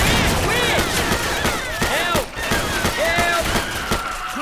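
A shotgun fires repeatedly during a Left 4 Dead 2 finale on a custom Resident Evil map, loud booming blasts among constant gunfire from several weapons, with shouted voices and zombie noises mixed into the dense chaos.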